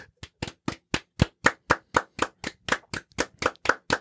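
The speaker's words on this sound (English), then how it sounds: "One more round of applause." Slow, single claps in a steady rhythm, about sixteen sharp, close hand claps evenly spaced with no other sound.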